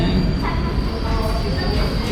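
Train moving through a Jakarta rail station, a loud continuous roar of wheels on track with a faint high squeal running throughout, close and steady.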